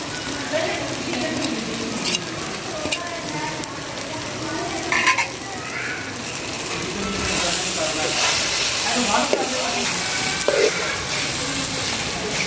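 Boiled chicken pieces frying in tomato masala for stuffed karela, a steady close sizzle and hiss of oil with occasional stirring scrapes and soft pops, continuous and fairly loud.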